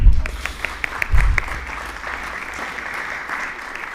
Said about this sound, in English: Claps again.